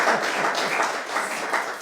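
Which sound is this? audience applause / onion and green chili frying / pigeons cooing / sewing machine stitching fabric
audience applause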